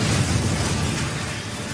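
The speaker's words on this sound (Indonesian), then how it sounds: "Tak berselang lama truk itu meledak." A truck blown up in a film set off by an explosive charge, a loud broad roaring blast with sustained rumble across the short stretch.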